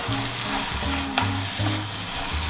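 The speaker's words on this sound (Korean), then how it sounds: "다음으로 부추에 숨이 죽을 때까지만 익혀주세요" Japchae glass noodles stir-fried with vegetables and chives sizzle steadily in a hot pan, with spatula scraping and tossing in an uneven rhythm, close and continuous with no talk.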